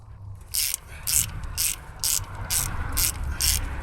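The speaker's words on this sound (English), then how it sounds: "Just make sure the ratchet is the right way around." A ratchet clicks while undoing bolts on a Triumph front-wheel-drive gearstick, seven short, bright rattling bursts in an even rhythm, close up with a low background hum.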